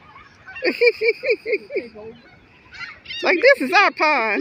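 A run of goose honks from geese at a pond, about six evenly spaced calls, fairly close, followed by a person talking.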